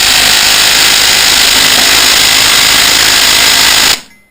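A bigger impact wrench whirs loudly and continuously as it tries to spin a tight part off a Kohler engine during a teardown, close up, cutting off sharply near the end.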